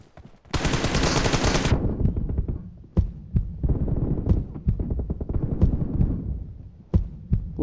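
Gunfire in the video game PUBG Mobile starts with a dense, loud rapid-fire burst, then continues as a steady rattle of automatic fire with sharp, spaced single shots cutting through.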